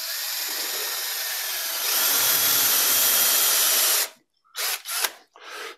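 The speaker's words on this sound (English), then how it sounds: "so I can drill it to the right depth" An 8mm bit drills into wood, with a steady loud whine for about four seconds that climbs a little in intensity, then stops and gives way to several short bursts as the drill is pulsed and the bit is pulled free.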